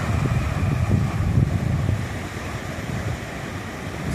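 Waves of the Tyrrhenian Sea washing against the shore in a steady low rumble, mixed with wind noise, continuous and fairly loud.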